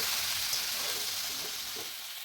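Veg Maggi noodles fry in a hot pan with a steady, close sizzle and occasional soft stirring and flipping scrapes, with no voices over it.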